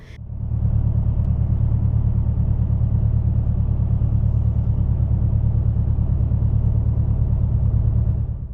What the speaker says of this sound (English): which is why the engine sounds so loud